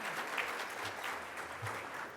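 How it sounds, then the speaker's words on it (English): An audience at a university centennial exhibit and magazine launch breaks into applause, a steady wash of clapping at moderate volume that lasts the whole moment before fading slightly at the end. "I think we need to cheer for that, please."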